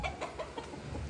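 Roosters cluck in short, soft bursts at a ranch, a few calls close together over a low background rumble.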